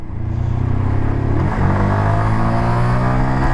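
An Arora MT 125 motorcycle engine while riding, a loud close drone that climbs in pitch, dips briefly at a gear change, then climbs again, steady and without voices.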